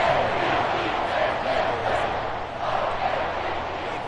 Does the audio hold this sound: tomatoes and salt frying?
no